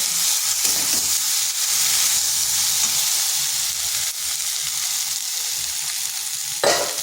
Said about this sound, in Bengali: এরপর মশলার সাথে বেশ ভালো করে কষিয়ে নেব